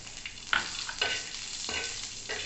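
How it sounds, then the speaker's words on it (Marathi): Green chillies, peanuts, garlic and salt are stirred in a hot pan, giving a soft continuous sizzle broken by three or four scraping stirs, close and fairly quiet with no talking. "मिरच्या भाजत आल्या, आता एका साईडला टाकायचं शेंगदाणे, मग टाकायचं लसूण, याच्यात टाकू आपण आता मीठ।"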